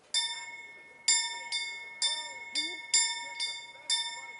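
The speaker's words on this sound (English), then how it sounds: "He's going to ring the bell." A town bell in Kingdom Come: Deliverance rings out clearly in a steady series of about eight bright, resonant strikes, each chiming and decaying before the next, roughly every half second.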